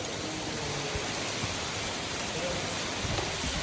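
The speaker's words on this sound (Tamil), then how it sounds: "ரொம்ப மழை பெய்யுது" Heavy rain pours steadily in Kuwait, a dense, even hiss of drops striking surfaces that holds unbroken throughout, close and loud with no voices.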